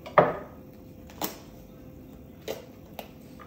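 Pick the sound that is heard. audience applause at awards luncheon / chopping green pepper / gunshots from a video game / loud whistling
chopping green pepper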